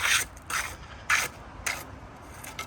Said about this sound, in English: Look at him playing with the trowel.